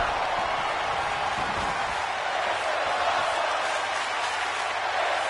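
A wrestling crowd cheers and applauds in a steady, dense roar of noise that stays loud throughout, with no clear breaks.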